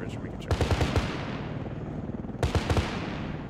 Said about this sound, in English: if you can hear heavy gunfire, that's just us picking off targets